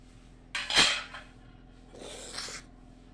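A sharp clink of a spoon against a plate while rasabora, sweet dal fritters in syrup, are being served, followed by a softer scraping rattle of crockery, close by with no talk.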